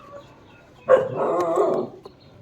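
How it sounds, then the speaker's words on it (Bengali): A pet dog gives one short, close bark-like yelp that stretches into a whining call, standing near a parked R15 motorbike, heard alone against quiet surroundings. "আমার কুকুরটা ডাকতে লেগেছে এখানে দাঁড়িয়ে দাঁড়িয়ে।"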